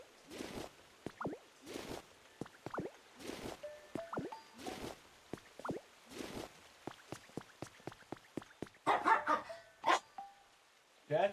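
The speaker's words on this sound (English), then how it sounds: "my dogs really love to misbehave when I stream." Pet dogs play and scuffle nearby, with a rapid series of short yips, barks and wet squishy mouth sounds, growing rougher and louder toward the end.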